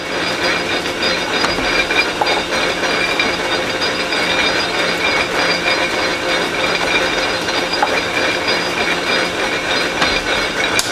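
A wooden tiller head being countersunk gives a continuous rough, grinding whir with a faint ratcheting texture, close and fairly loud, with brief bursts and no talking over it.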